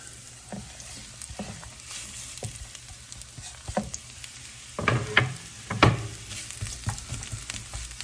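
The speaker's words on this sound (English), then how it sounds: "now it's hot, so I'm adding the onions and the peppers" Onions and peppers fry in a hot nonstick pan, a soft steady sizzle broken by several louder scraping stirs and clatters, close by, with no talking.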